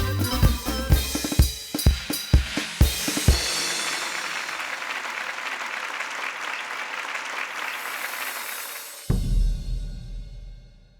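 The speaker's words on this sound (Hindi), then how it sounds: "तो तालियों से स्वागत कीजिए हमारे इन होनहार आर्टिस्ट" Circus audience applause welcoming the performers: a few sharp, loud beats open into a sustained, dense wash of clapping that holds steady for several seconds before cutting off abruptly into a low rumble.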